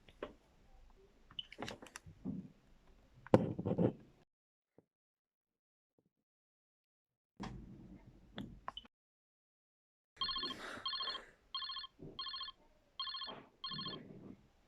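A telephone rings in a rapid repeating bell pattern, about five short bursts close together, following stretches of quiet and a few scattered knocks and rustles.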